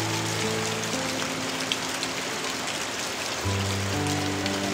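Rain falls steadily, a constant broadband hiss of drops on surfaces with no break, joined by faint tonal hum in the background.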